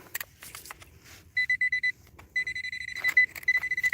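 A Nokta Pulse Dive metal detector, set to level 5, gives a steady tonal beep that turns into quick rapid pulses, repeated in two runs close by, outdoors on a winter morning in the Highlands, with some rustling between the signals.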